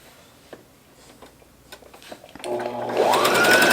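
A sewing machine stitching a reusable fabric face mask with a filter pocket, starting with scattered light clicks and taps before the motor whirs up into a steady, rising run of close stitching.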